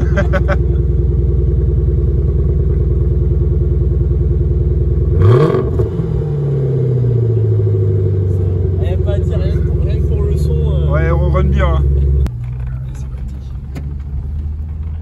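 An MG ZT 260 with a 4.6 V8 from a Mustang rumbles deep and loud nearby, rises in a rev as it pulls away, and settles to a steady drone. People talk over the engine.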